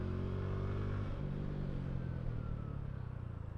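A TVS Radeon motorcycle rides at about 60, its steady engine hum and road rumble close and continuous, easing slightly toward the end as the rear brake is applied.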